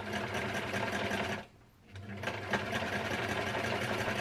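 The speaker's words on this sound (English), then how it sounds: "So I'm going to start sewing" A sewing machine runs continuously as it stitches the curved waistband of a full circle skirt, with a rapid mechanical whir. It pauses briefly partway through, then resumes at a steady pace, close and clear with no talking.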